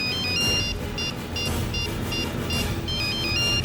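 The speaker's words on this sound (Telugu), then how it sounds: "ఇప్పుడు మళ్ళీ మనకు ఫోన్ చేస్తున్నాడు. రేయ్ ముందు ఫోన్ లిఫ్ట్ చేయి" A phone ringtone repeats in short bright bursts, loud and steady across the whole span, mixed with dense background music and noise in a tense crime-drama scene.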